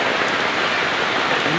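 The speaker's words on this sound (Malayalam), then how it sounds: "ഇന്ന് നല്ല മഴ," Heavy monsoon rain pours down in a dense, loud, unbroken hiss with no pauses.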